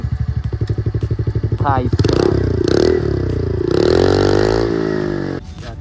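A TVS Ntorq 125 scooter's aftermarket valvetronic exhaust idles with a rapid lumpy putter, then is blipped into several loud rising revs before settling back, close up, with a voice speaking briefly over it.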